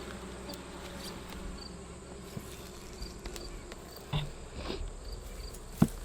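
Honey bees fan and buzz around a hive just installed with a new super inside a barn, a steady dense hum with individual bees droning close past the listener, and no talking.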